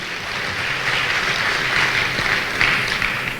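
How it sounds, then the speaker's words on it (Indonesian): Seminar audience at a gala dinner applauding together, a dense, even wash of clapping that holds steady throughout with a few louder claps near the end. "Tepuk tangan dulu dong."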